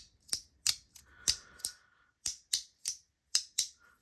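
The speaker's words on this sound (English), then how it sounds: "So this corner right here will click." A fidget toy's corner clicker snaps about ten times in uneven bursts, each click sharp, close and crisp against near silence.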